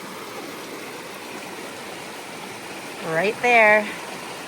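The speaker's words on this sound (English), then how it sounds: "we are right on a mountain river." A mountain river in Wyoming's southeastern Bighorn Mountains rushes with a steady, broad flow that fills the whole scene, and someone speaks briefly over it near the end.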